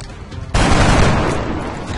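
Soldiers firing in XCOM Enemy Unknown, a sudden loud burst of gunfire with a booming blast that rings out and slowly decays, with no voices.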